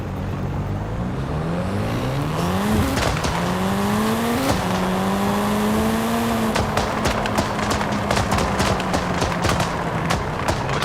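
A Mitsubishi Evo 8 with anti-lag in Forza Horizon 5 at night, engine revving up through rising gear pulls close by, then settling into a steady drone with a rapid series of sharp anti-lag pops and crackles.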